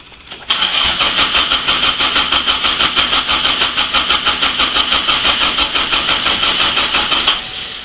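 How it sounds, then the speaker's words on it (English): Car engine cranking over on its starter with the coil lead disconnected so it cannot fire, a steady rapid chugging rhythm that runs loud and continuous for about seven seconds before stopping. "let's just see what it will do on a cranking check"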